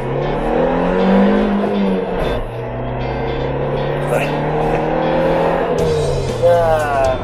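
A Suzuki Jimny Sierra accelerates hard from the cabin, its engine note rising steadily with revs and staying loud throughout, with people talking over it.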